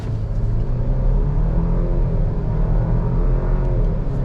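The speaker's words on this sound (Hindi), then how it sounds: "एक्सेलरेशन पैडल पूरा प्रेस है" A Jeep Grand Cherokee in normal auto mode accelerates at full throttle from 0 to 100, a steady loud engine roar and drone with tyre and road rumble, heard from inside the cabin without talk.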